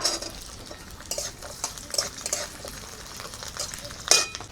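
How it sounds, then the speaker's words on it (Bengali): Dried chili, garlic and ginger fry in a little mustard oil in a kadai. Soft sizzling runs under irregular stirring scrapes and light metal clinks, with a sharper clatter near the end. "কড়ার মধ্যে অল্প পরিমাণ একটু সরষের তেল দিয়ে দিব প্রথমে এই মশলাগুলো বাটার আগে ভেজে নেব"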